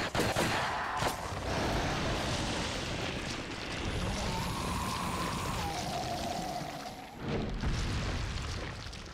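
Loud gunfire and booming blasts from the video game Resident Evil 4 during a boss fight, heavy rumbling shots overlapping with a pouring, splashing texture and a few sharp bursts.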